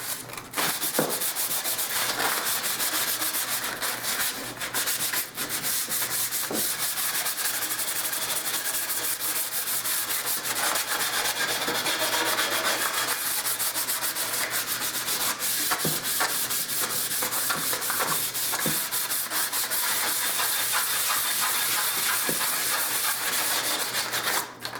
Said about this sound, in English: So you want to make sure that you take your sandpaper to the edge of it.